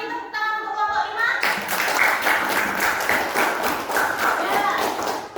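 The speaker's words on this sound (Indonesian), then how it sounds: "Marilah kita beri tepuk tangan untuk kelompok 5." Students in a classroom clap for group 5. The applause bursts in after a moment of speech, then carries on as brisk, fairly close clapping from a small crowd and stays steady to the end.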